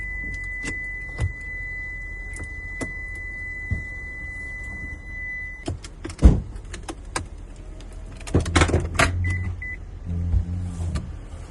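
A whirring electric motor runs steadily for several seconds, then stops, followed by clicks, clunks and short bursts of motor whine in a quiet car interior.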